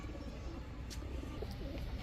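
Faint, soft cooing of Road Master and White Racer pigeons sits low under a constant hiss of background noise, with an occasional light chirp.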